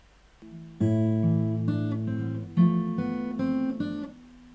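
Fingerstyle acoustic guitar plays the third and fourth measures of a Final Fantasy X song: a soft opening, then ringing plucked chords and melody notes in a gentle, steady phrase with no voice.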